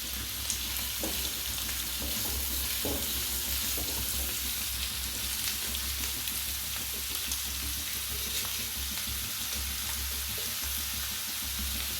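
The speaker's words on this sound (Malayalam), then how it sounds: "വെളിച്ചെണ്ണ ചൂടായ ശേഷം നമുക്കതിലേക്ക് സവാള, പച്ചമുളക്, വേപ്പില ഇത്രയും അങ്ങോട്ട് ഇടാം. എന്നിട്ട് നന്നായിട്ട് വഴറ്റി കൊടുക്കാം." Onions, green chilies and curry leaves fry in hot coconut oil with a steady, fairly soft crackle and occasional stirring knocks, alone without voices throughout.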